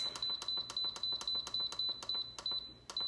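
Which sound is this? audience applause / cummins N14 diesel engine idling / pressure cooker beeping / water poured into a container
pressure cooker beeping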